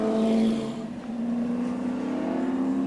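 A 1997 Australian Touring Car race at Lakeside Raceway, where a touring car engine roars loudly and steadily at high revs, its pitch rising slightly as it climbs, with no speech over it.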